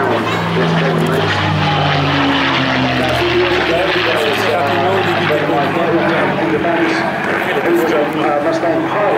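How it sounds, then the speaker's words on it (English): P-51D Mustang with its Merlin engine flying overhead above the clouds at Jersey, a loud sustained propeller-engine drone with falling tones, steady throughout while someone talks over it. "Here it is, the Mustang up in the clouds above us here, instantly in fame. And what a wonderful sound this thing makes."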